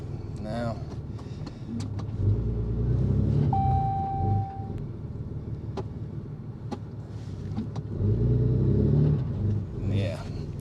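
A truck in four-wheel drive high, stuck beside a camper, roars and revs in long surging bursts with a low rumble, close by, while a person talks over it.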